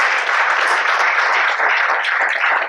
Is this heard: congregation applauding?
yes